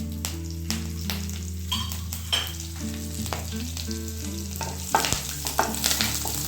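Steady sizzling of spices and curry leaves frying in hot oil, with occasional clinks and stirring taps of a utensil against the pan.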